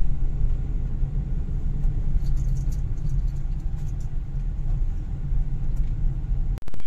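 Maruti Ertiga car driving on the road, a steady low engine rumble and road noise continuing throughout at close range, with a brief dip near the end.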